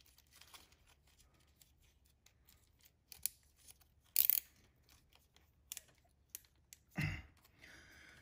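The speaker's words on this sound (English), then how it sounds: "I'm going to connect these three back up right here with our reusable zip tie." A reusable zip tie is ratcheted tight around wiring on a Yamaha FZ-07 (MT-07) motorcycle, giving soft close clicks and short zipping bursts, one longer rasp near the end, in near quiet.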